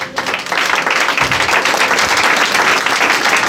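A congregation on its feet applauds to acclaim the Lord at a church service, steady loud clapping from many hands sustained throughout with no voices over it.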